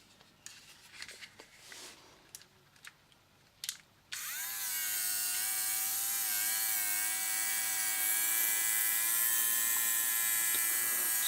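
A Panasonic ER430K nose and ear hair trimmer, running on one AA battery, starts after a few light handling clicks and then gives a close, steady high-pitched whine with a faint wavering buzz.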